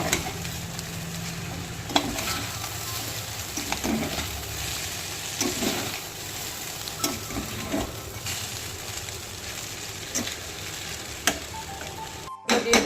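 Street-style egg chicken chowmein sizzles in a hot pan with vinegar and chilli sauce as it is stirred and tossed, steady frying hiss broken by regular scraping and clanking strokes, no talking.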